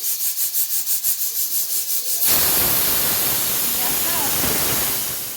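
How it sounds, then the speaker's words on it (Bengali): A pressure cooker on a gas stove cooking rajma (kidney beans) lets out a loud, steady rush of hissing steam after a series of rapid rhythmic puffs, filling the rest of the clip with close, continuous venting. "তিনটে সিটি হয়ে গেছে"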